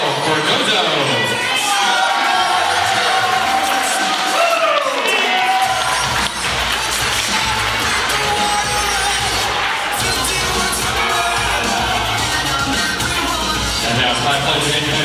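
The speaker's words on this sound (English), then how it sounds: "let's have a nice round of applause for Rachel Lesnar, escorted by Keith Sten" Wedding guests in a crowd cheer, whoop and clap loudly throughout, with shouting and a busy roar of voices that swells as they applaud.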